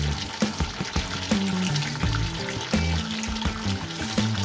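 Beef cooks in spices in a pot for a dum biryani, sizzling steadily while a spoon stirs and scrapes through it in repeated close knocks.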